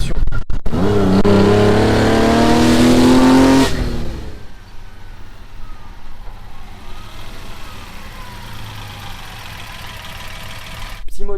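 A Fiat Dino Spider's engine revs hard while driving, rising through the gears in a loud, close climbing howl for several seconds, then drops to a lower steady cruising drone with quieter road noise.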